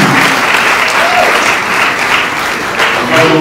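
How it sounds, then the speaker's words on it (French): Loud, close applause fills a Chamber of Mines gathering in Kinshasa, a thick sustained clatter of many hands with a brief dip midway and faint voices mixed in. "Nous allons applaudir."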